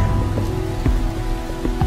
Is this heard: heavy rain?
yes